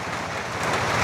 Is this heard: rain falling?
yes